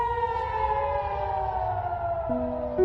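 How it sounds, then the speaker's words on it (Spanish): A civil defense siren wails steadily close by, its tone sliding slowly downward, loud and unbroken, warning of an incoming missile attack from Gaza on a kibbutz. "comenzaron a sonar las sirenas ante el ataque con misiles que llegaba de Gaza"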